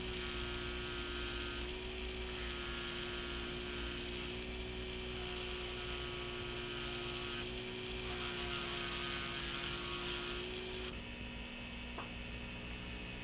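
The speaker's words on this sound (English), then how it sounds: "Gross removal of duralay is first done with a heatless stone." A heatless stone on a dental handpiece grinds away Duralay resin on a die, a continuous high-pitched motor whine with a steady hum that shifts slightly in tone as the stone is pressed and eased off.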